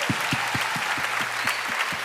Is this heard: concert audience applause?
yes